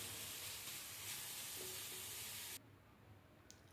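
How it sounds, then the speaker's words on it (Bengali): Onions fry in oil for hilsa biryani, a continuous soft crackling sizzle that holds for a few seconds and then drops away abruptly, leaving near-quiet. "এবার পেঁয়াজ থেকে তেলটা না ছাড়া অবধি এটাকে ভাজতে হবে।"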